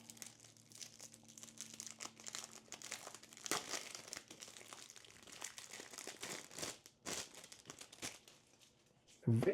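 Packaging for a Lorzor RFID pop-up wallet being opened, with irregular crinkling and tearing of recycled-material wrapping, close and fairly quiet, with a louder rustle at the end.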